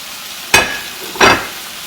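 Strips of bacon frying in a pan and pressed down with a spatula, giving two short, bright sizzling bursts about a second apart over a quiet, low background.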